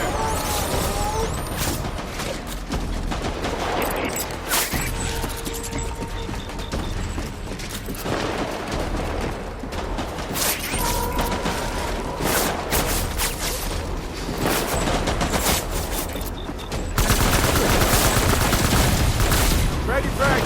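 Dense, continuous video-game gunfire from Death Stranding Director's Cut, with rapid automatic bursts layered over rumbling mechanical noise and loud combat effects throughout, growing heavier near the end.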